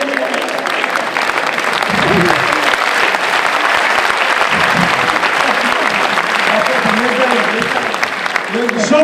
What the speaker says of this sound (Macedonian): шо плескате бе?